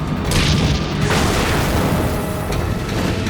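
A HEAT shaped-charge anti-tank round strikes a tank during a desert tank battle, a loud, sustained, rumbling blast that stays heavy and dense throughout without a break.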